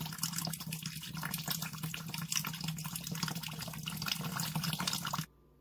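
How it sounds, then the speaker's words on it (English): Steady running water rinses the hot-water filter of a Navien tankless water heater, a constant close splashing flow that continues evenly for several seconds, then cuts off abruptly. "So I'm going to rinse it off."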